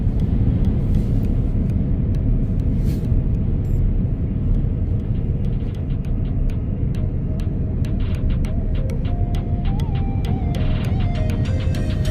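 A Tesla Cybertruck drives on the road, producing a loud, steady low road and tire rumble inside the cabin, broken by regular soft ticking clicks and a brief tone near the end.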